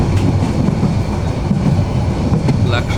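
Steady rumble and rhythmic clatter from inside a moving train passing Laksam, heard close and loud throughout, with wheel noise and faint squeals over the low roar.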